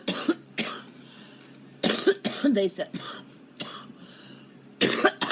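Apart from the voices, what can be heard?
coughing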